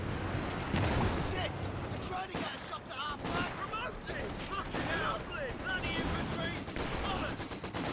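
Machine gun fire in Company of Heroes 2 as infantry run into an MG position near a trench, rapid rattling bursts and scattered shots layered over battlefield noise, with a voice talking through much of it.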